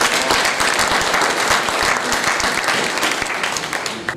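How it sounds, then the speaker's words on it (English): Audience at a talk with a returning guest speaker breaks into steady, dense applause, a loud continuous wash of clapping that holds throughout without letting up. "Another round of applause."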